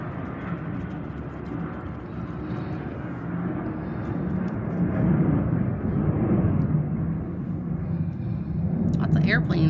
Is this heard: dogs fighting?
no